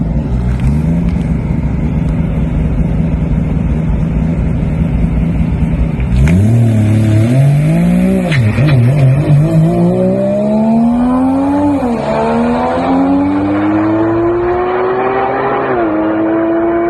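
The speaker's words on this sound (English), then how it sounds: "I'm gonna take off easy, first gear, second gear, and then I'm just gonna lay the power down to third and fourth and see what she does" A Mazda RX-7 with a 3-rotor billet engine and dual-clutch gearbox launching at Darlington dragway: a loud, close, buzzing rotary idle, then hard acceleration with rising pitch sweeps and quick gear changes.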